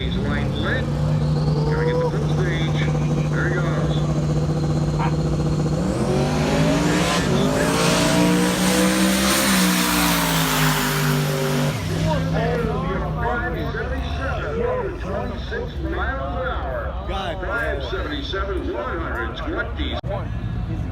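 Race cars at Irwindale Speedway at night, engines droning and revving, one rising to a loud roaring pass, then a rough, sputtering idle, with people talking throughout.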